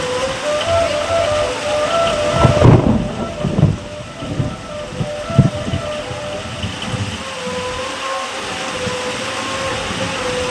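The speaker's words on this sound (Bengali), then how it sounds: "আর এদিকে প্রচণ্ড ঝমঝমিয়ে বৃষ্টি।" Heavy rain pours steadily while thunder rumbles and cracks loudly around the middle, then the downpour continues alone.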